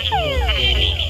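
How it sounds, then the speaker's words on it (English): A loud, close túngara frog mating call: a descending whine repeated twice, with short throaty chuck notes tacked on at the end. "the males start competing with one another, and they add chucks on their call"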